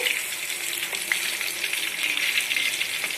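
Vanjaram fish fries in hot oil with a steady, close hiss and sizzle, a few sharp pops and crackles breaking through the dense crackling.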